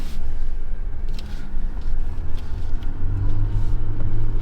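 A vehicle driving slowly over a trail of small rocks in the Colorado backcountry, with a steady close engine rumble and scattered crunching and rattling from the tyres and body, continuous for several seconds with no talking.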